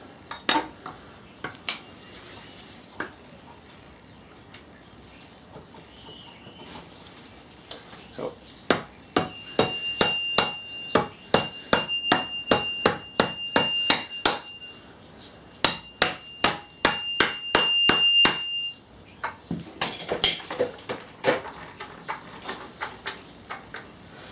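Metal lump hammer blows driving gearbox shafts into place on a VW Passat gearbox, sharp ringing clanks in quick repeated bursts, some in fast runs, with pauses between groups.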